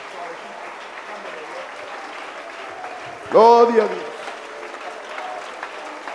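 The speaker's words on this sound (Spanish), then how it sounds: "Ese aplauso es para Jesús, el más grande de todos." A church congregation claps steadily throughout, with someone speaking once briefly over the applause.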